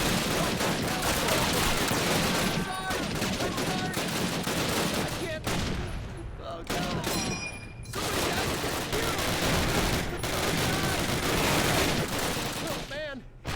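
Dense, continuous battlefield gunfire from the video game Call of Duty, with rapid shots and bursts close and loud throughout and shouted voices mixed in.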